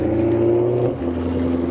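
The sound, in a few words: car driving off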